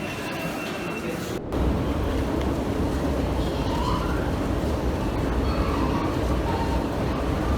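A London train at London Bridge station, a loud continuous rumble and hum filling the clip after a brief dropout, with steady platform and carriage noise.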